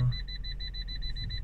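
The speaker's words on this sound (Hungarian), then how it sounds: "Ugye tolatóradaros, mindjárt mutatom is. Így csipog." A Fiat 500 parking sensor beeps in a steady, evenly spaced series of high electronic tones while the car reverses, clear over a low engine hum.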